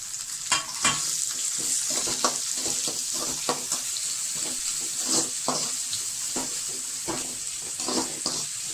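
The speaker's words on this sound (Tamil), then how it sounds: "சின்ன வெங்காயம் பெரிய வெங்காயம் ரெண்டுத்தையும் ஒன்றா போட்டு வதக்கலாம்." Shallots and onions sautéing together in a pan for a fish curry: a continuous close sizzle broken by regular scraping stirs of the spoon, with no speech.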